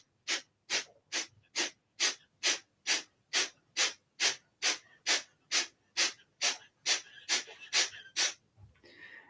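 Kapalbhati yoga breathing: about nineteen sharp, forceful nasal exhales at a steady quick rhythm, each a short close puff of air with faint passive inhales between, one person alone.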